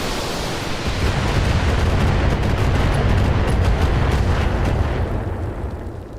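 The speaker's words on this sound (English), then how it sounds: "Firing a full salvo." A heavy mech in Battletech firing a full missile salvo: a dense, continuous roar of overlapping launches and blasts, loud and sustained for several seconds before tapering off slightly.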